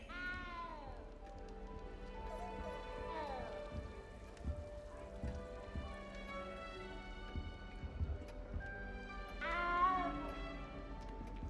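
Cat in the video game Hogwarts Legacy meowing: several drawn-out, rising and falling meows near the start and again near the end, moderately close, over a soft pattering background with light clip-clop sounds.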